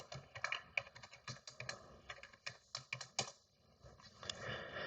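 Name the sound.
typing a password on a computer keyboard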